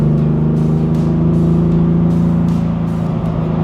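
A restored 1966 Mercedes-Benz 230 SL Pagoda with a 4-speed gearbox drives along at a steady cruise, its engine a constant low drone heard from inside the car, with no talking.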